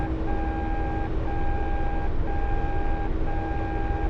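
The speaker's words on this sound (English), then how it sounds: "because I don't want just constant beeping, because otherwise it's going to sound like this the entire time." Repeating radar warning receiver beeps inside a Mi-24P Hind helicopter game, a steady two-tone electronic pulse sounding about once per second, loud and continuous over a dense cockpit engine and rotor rumble.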